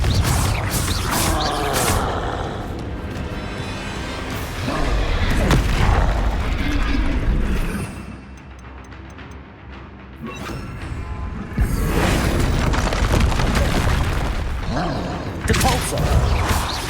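Confringo blasting spell in Hogwarts Legacy, heavy booming bursts with deep rumbling thumps, loud and repeated across the clip, separated by a quieter lull.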